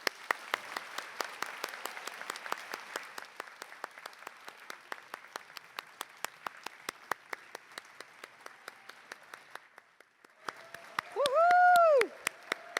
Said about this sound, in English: Please join me in one more round of applause for our graduates